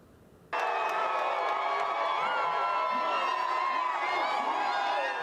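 A crowd at a Padres game day party in Gallagher Square bursts into loud, sustained cheering, with shouts and whoops rising all at once and carrying on without a break, close and dense.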